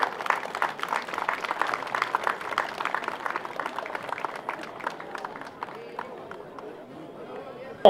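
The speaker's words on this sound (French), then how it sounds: "On peut l'applaudir." A crowd applauds at a Breton horse fair, a dense patter of clapping that slowly thins, with murmured chatter underneath.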